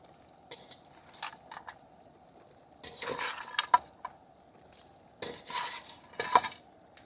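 Goat head meat cooking in a pan with onions and green chillies, faint sizzling under intermittent clanks and scrapes of a spoon against the pan, in scattered bursts with quiet gaps.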